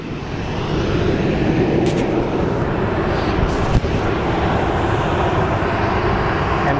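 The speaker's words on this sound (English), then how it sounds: "one of the Southwest flights pulling into the gate" A Southwest jet taxis in to its gate at Phoenix Sky Harbor International Airport, its engines a loud, steady broadband roar with one brief knock partway through.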